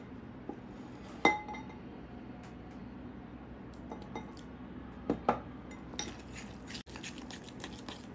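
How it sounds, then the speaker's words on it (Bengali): A mint leaf face pack is mixed in a bowl with a spoon, giving soft scraping and a few sharp clinks of metal on the bowl at irregular intervals in a quiet room. "এবার আমি এটা ভালো করে মিক্স করব মিক্স করতে করতে পরিমাণ মতন জল দেব"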